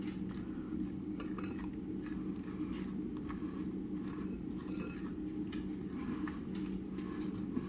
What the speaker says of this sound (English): Now we're going to mix this until it is barely combined.